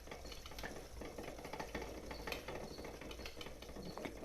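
Braided fishing line winds onto a spinning reel with a faint, close mechanical ratcheting and whirring that clicks in quick, uneven pulses throughout, with no speech.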